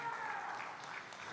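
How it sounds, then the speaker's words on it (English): Faint, steady applause at the Ohio State Fair open Red & White heifer show, honoring red heifer exhibitors and breeders; a dense, even patter of many hands for just over a second, with a voice running over it. "Let's put our hands together for these red exhibitors and breeders."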